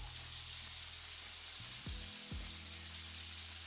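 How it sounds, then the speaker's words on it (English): A constant, hissing sizzle of potatoes roasting in hot duck fat, steady and close, with a couple of low thumps partway through. "You hear that sizzle? It's exactly what we want."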